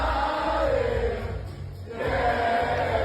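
A big French wrestling crowd roars in a continuous, loud wash of cheering and shouting that briefly dips in the middle before swelling again.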